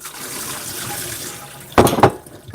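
Tap water runs steadily into a kitchen sink as peppers are rinsed, with a soft continuous flow broken near the end by two louder splashing bursts.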